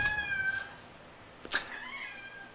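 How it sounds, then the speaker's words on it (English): A house cat meows loudly nearby during a game livestream, one drawn-out tonal meow followed by a short sharp second call, with no talking. "I apologise for the cat."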